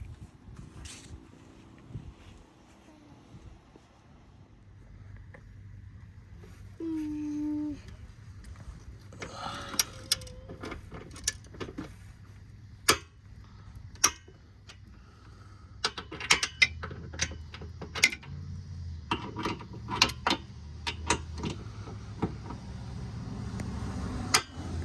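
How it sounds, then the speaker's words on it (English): A torque wrench set to 60 foot-pounds checks the bolts of an OEM trailer hitch on a 2020-2024 Toyota Highlander, giving repeated sharp clicks and ratcheting snaps over a low background rumble, fairly close and with no talking. "So I'm gonna use my torque wrench, we'll adjust it to 60"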